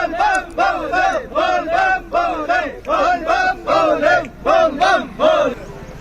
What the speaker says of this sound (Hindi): देश भर से बड़ी संख्या में बम बम बोले के नारों के साथ श्रद्धालु पहुंचे हुए हैं